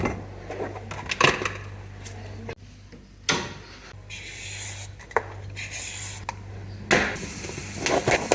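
A fairly dull kitchen knife chops carrots on a board, giving irregular sharp knocks and cuts at close range over a low background hum.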